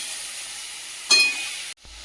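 Shrimp with okra cooking in a small wok gives a steady, soft sizzle, swelling into a louder burst of frying for a moment before cutting off abruptly near the end.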